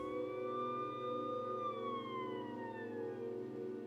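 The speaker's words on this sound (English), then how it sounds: "An ambulance, distant but coming closer." A distant ambulance siren wails, rising and falling in pitch, steady and shrill over a low rumbling background, coming closer.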